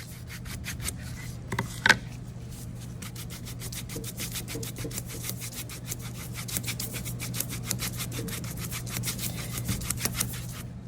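Cloth rubbing a small amount of antiquing wax over an embossed gel finish, quick repeated scrubbing strokes in a steady rhythm, close and fairly quiet, with one brief knock early on.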